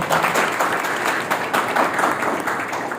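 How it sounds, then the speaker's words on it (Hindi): Loud, sustained applause from the audience at an eye-care camp and donor felicitation ceremony, a dense steady wash of clapping filling the whole stretch with no talk over it. "आज के इस कार्यक्रम में जोरदार तालियों से"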